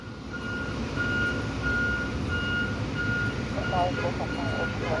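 A pickup truck backing up on a narrow roadway gives out faint, regular reversing beeps over a steady engine rumble, while voices talk over it near the end.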